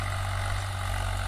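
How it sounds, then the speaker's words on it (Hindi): A Swaraj 735 FE tractor engine runs steadily nearby, a loud, even low-pitched drone and rumble throughout with no talk. "ये हमारा 735 ट्रैक्टर है स्वराज का"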